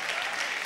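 Applause from a studio audience at a televised children's song contest final, a brief burst of dense, steady clapping filling the moment at full volume.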